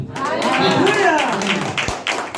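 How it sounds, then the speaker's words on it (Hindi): A church congregation claps hands in quick rhythm during a Hindi sermon, the claps sounding under loud voices calling out together. "बोले ताली बजाकर हालेलुया"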